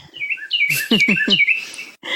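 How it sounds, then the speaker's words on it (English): Several bright, high chirps and tweets from a bird outdoors, repeated in a quick run of calls at close range and fairly loud, with a short pause before a final burst. "Listen to this cool bird."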